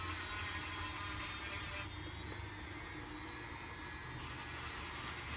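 Continuous whining grind of power tools drilling and sanding rocks, steady and harsh with a slight change in pitch midway, no voices.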